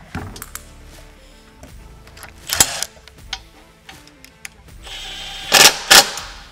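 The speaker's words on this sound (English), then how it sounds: "Tighten the hardware." Close metallic clicks and ratcheting bursts as nuts and bolts are tightened while a game loader rack is fitted to a Can-Am Defender, scattered light taps with two louder ratchet runs.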